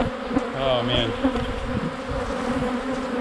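Honey bees swarm densely around a camera, a close, continuous buzzing hum with individual bees droning past, while someone briefly speaks over it.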